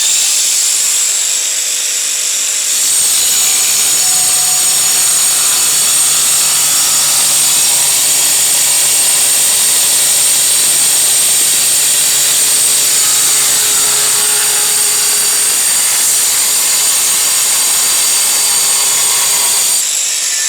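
A 1300W brushless CHUANG angle grinder cuts with a disc, whining loudly and steadily at close range for about seventeen seconds after a short quieter lead-in, then cutting off abruptly.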